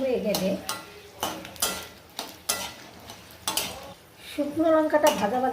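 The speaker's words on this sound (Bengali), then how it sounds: "এখানে আমি শুকনো লঙ্কা, একটু নেড়ে চেড়ে নেব।" Dried red chillies stirred in hot oil in a pan, with repeated scraping and clinking of a spatula against the metal over a soft sizzle, close and moderately loud.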